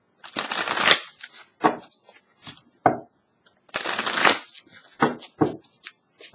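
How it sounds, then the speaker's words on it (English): Tarot cards being shuffled by hand in repeated bursts of riffling and sliding, close and fairly loud, with short pauses between each bout and no talking. "Let's do some shuffling."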